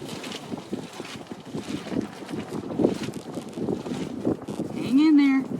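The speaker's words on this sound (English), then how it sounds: "Oh, the gusts are happening." Gusty wind buffets the microphone in uneven rumbling bursts outdoors at a campsite, with a voice speaking briefly near the end.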